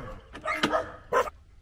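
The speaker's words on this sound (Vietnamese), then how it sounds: "chó nó sủa ồn quá" A dog barks outdoors on a rural land plot in Phuoc Buu town, Xuyen Moc, giving three fairly loud barks in quick succession over about a second, with no talking.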